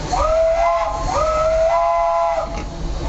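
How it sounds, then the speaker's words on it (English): Two long, loud steam locomotive whistle blasts on the Disneyland steam train in Anaheim, California, one after the other, each a steady tone over a constant hissing roar of steam. "Okay, 2 whistles."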